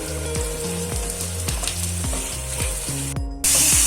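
Minced meat sizzles as it is added to fried onions in a pan, a steady frying hiss broken by repeated stirring knocks, ending in a brief louder burst.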